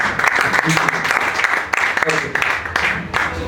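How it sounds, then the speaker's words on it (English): Audience applause at a Pan African debate event, a steady dense clapping from a crowd lasting several seconds, with voices mixed in beneath. "you need to give a very big round of applause to Captain Mukula"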